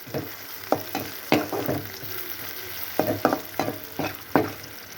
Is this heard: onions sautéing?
yes